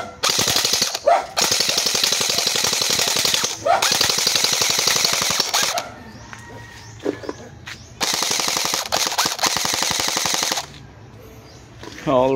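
ARP9 version 4 gel blaster with a long barrel, rated 280 FPS, firing full auto in long rapid bursts, with short gaps holding faint mechanical clicks and a brief voice.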